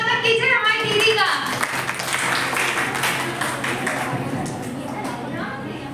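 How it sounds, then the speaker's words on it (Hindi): An audience at a college farewell event claps to welcome a speaker to the stage, with dense, steady applause and crowd murmur that fades slightly toward the end. "तो तालियों से स्वागत कीजिए हमारी दीदी का।"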